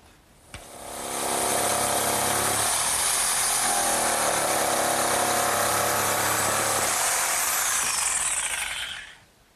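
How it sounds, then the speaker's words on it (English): A power saw rips through two stacked wooden boards at once for a hearthside settle. It starts with a sharp click, whines up to a loud, steady cutting roar that holds for about seven seconds, then winds down. "And now I'll just cut both boards at once."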